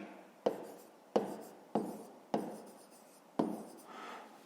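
Pen strokes writing a math answer by hand on paper: five distinct scratchy bursts, each starting sharply then trailing off, spaced about half a second apart, close and fairly quiet with no voice.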